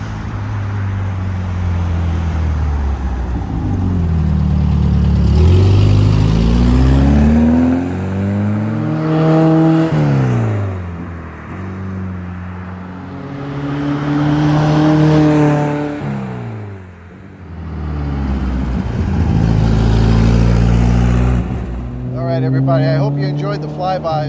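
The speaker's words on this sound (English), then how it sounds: "We're gonna drop Dawn off, and we're gonna do a couple of flybys, just so you can hear" A 1970 Porsche 914 makes several flybys, engine note rising as it approaches, peaking loudly, then falling away with audible pitch shifts, each pass separated by a brief lull on a tree-lined road.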